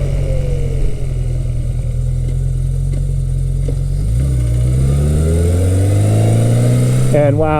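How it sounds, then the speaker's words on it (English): A Yamaha XS1100 motorcycle with new EBC brake rotors rides along at a steady, loud engine drone, then slows with the engine note falling and shifting before a sharp rise near the end, heard up close with wind noise. "I'm just going to be bedding in the brakes here."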